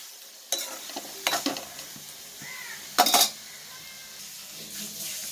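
Dry cod fish sautés in a pan with a low background sizzle as a spatula scrapes and clatters against the metal in a few sharp bursts.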